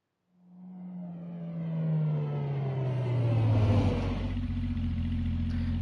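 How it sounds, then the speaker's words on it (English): A car engine in Street Fighter 6 rises from a low drone and grows steadily louder as it draws near, then settles into a steady idle at the end. No voices are heard. "Suddenly, the sound of a car engine broke the silence. It continued to grow louder, then came to a stop."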